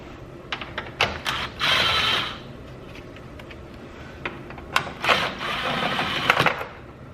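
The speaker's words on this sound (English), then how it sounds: "So I'm just going to take these bolts out and just kind of slide this out a little bit" Bolts being removed from the radiator support of a BMW M3 during a cold air intake install: a run of sharp metallic ratcheting clicks and short bursts of wrench mechanism noise, close and moderately loud, with brief pauses between.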